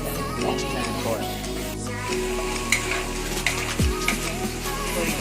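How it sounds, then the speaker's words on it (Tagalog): Garlic, onion, hotdog and mushroom sauté together in a pan for spaghetti, producing a continuous moderate sizzle with occasional stirring clatter, under a faint hum and some background voice. "So, igisa na natin yung bawang, sibuyas, halo na yung hotdog at saka mushroom"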